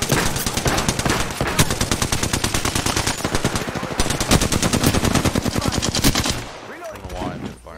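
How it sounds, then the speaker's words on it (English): A machine gun fires in a video game in long, rapid, loud bursts that go on almost without a break. It stops near the end, leaving a brief trailing sound. "I don't know why I'm firing so fucking much."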